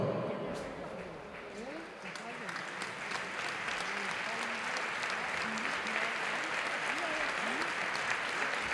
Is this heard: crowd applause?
yes